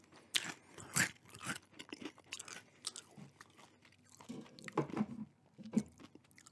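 Crunchy Nacho Cheese Doritos Minis being chewed close to the microphone, a rapid irregular run of crisp crunches and bites alone in quiet.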